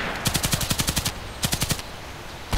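An automatic gun in the shooter game Contract Wars fires two quick bursts, about ten rounds and then about five, in a sharp, evenly spaced rhythm. The shots are close and loud, and no voices are heard.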